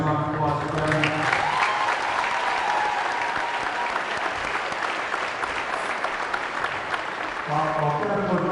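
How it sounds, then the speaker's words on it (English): A gym crowd at a varsity boys basketball game applauds the boys basketball coach, a steady full round of clapping under a voice speaking over the start and end. "Nice round of applause for Kevin."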